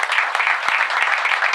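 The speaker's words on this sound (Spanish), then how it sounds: "Fuerte el aplauso, vamos," Audience applause at a concert, a dense, steady clatter of many hands clapping throughout, loud and close with no talk over it.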